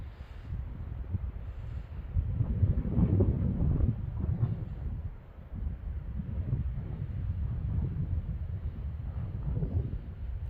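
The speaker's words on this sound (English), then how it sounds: "A little windy today." Steady wind gusting and rumbling across an outdoor microphone on a mountain, a continuous low roar that swells and eases without any talking.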